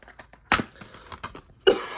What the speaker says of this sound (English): I am really coughing here.